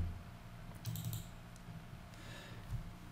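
Typing on a computer keyboard at a desk while working in Blender, a few quick bursts of close, crisp key clicks separated by short pauses over low room hum.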